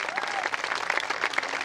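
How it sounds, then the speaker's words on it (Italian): An outdoor audience in a villa park applauds the IDEM dance troupe after a performance with a youth orchestra; brisk, steady clapping from a crowd, moderately close, with a faint murmur of voices. "Un grandissimissimissimo applauso al corpo di ballo IDEM"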